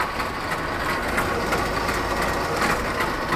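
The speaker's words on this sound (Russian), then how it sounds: "слышим посторонний шум, который исходит из коробки перемены передач" A loud, steady mechanical drone from a running wheel loader, with a rough grinding rattle from a faulty gearbox pulsing through it. No one speaks.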